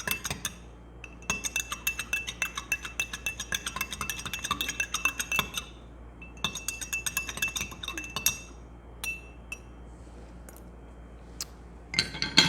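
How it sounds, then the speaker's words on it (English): A spoon stirs syrup into iced cold brew coffee in a glass, producing bursts of bright, rapid clinking against the glass, close and clear, separated by short pauses, with no voices. "Give it a little stir"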